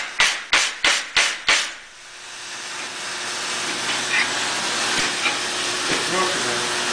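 Five loud, evenly spaced hammer blows strike a welded bead during a destruction test, then give way to a steady hiss for the rest of the clip.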